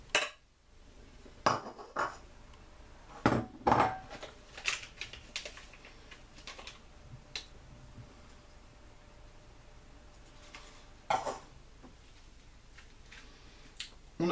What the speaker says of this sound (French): on va les mettre dans le grand bol et mélanger le tout avec la fourchette